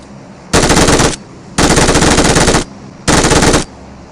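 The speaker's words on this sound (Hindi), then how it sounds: "जैसे भाई मैं इसे फायर देता हूँ ये नीचे कूद जाता है।" Automatic gunfire in the mobile shooter game BGMI, three loud close bursts of rapid shots separated by short pauses, with no talk over them.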